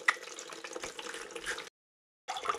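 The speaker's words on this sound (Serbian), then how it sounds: "Voda teče." Water drains from a central heating radiator in a thin, steady trickling stream, with a short silent gap before it resumes.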